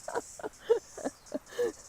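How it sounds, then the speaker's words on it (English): A cicada sings near Pupuke trees above a coastal reef, about six short rhythmic chirps evenly spaced, faint and fairly close, with no talk. "First cicada I've heard this season."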